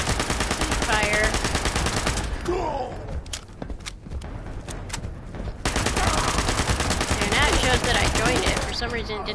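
Gunfire from a gun in the video game Fallout 76 rattles as loud, rapid automatic bursts that fill most of the stretch with a brief lull in the middle, while a player speaks over it.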